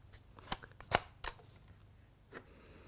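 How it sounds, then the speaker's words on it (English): A Sony FDR-AX33 camcorder plays its short startup chime and the lens shutter clicks open, heard as a few sharp, quiet clicks and ticks close by in a hushed room. "when you open up the screen, you obviously get a greetings noise, and the shutter opens"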